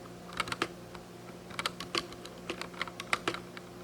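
Clicky keyboard typing in irregular bursts of keystrokes while playing a ZX Spectrum game, close and fairly quiet, with a steady low hum underneath and no voices.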